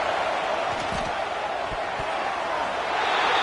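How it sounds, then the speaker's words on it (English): In the College Football 26 video game, a home stadium crowd keeps up a dense, steady roar throughout, loud and unbroken, with a few low thuds under it. "Man, this crowd really affecting the football game."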